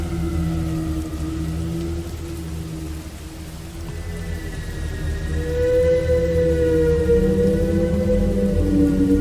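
Steady, loud rainfall ambience in a dark myth-themed horror video game, a continuous wash of falling rain under low sustained musical drones and tones that swell partway through.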